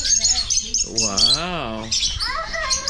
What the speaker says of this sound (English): look at the parakeet